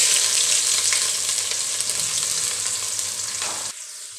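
Onion and ginger sizzle steadily in hot oil with whole spices such as nutmeg, star anise, black pepper and cloves, a loud dense frying hiss with faint stirring, cutting off abruptly near the end.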